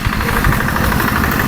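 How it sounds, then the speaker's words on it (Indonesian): A rice-field plowing tractor engine runs close by with a loud, steady knocking rumble and rattling vibration, continuous throughout with no talk. "Itu namanya traktor. Buat bajak sawah."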